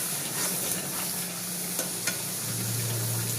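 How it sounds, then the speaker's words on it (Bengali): A spice paste sizzles steadily in a pan while a utensil stirs and scrapes through it, with a few sharp clicks, loud and close with no voices. "মশলাটা একদম ভাজা ভাজা হয়ে গেছে"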